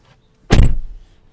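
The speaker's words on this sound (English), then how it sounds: "Or if I wanted to open the car door." A Tesla car door opening by remote control, heard as a single close mechanical burst of whirring and thudding that lasts about half a second, with near silence before and after.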